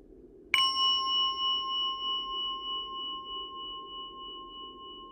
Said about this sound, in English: Three sounds of the bell.